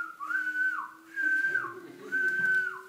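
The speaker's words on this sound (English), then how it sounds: "if I whistle" A person whistles three sustained, rising-then-held notes with short pauses between them, clear and close, with no talking.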